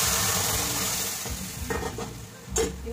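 Dal for a sour mango dal hits a hot pan and sizzles loudly while being stirred, a steady close hiss with scraping strokes and a sharper clatter near the end.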